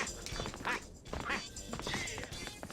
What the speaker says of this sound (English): He sounds weird. like a duck when he jumps.